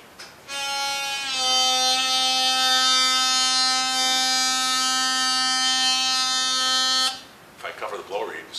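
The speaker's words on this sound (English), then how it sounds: "when I bend, I can cover that draw reed with my finger and you'll see absolute proof that all the sound is coming from the blow reed" A harmonica sustains one long bent note with the draw reed covered by a finger, the pitch dipping early then holding steady and loud for about six seconds before stopping, followed by brief talk.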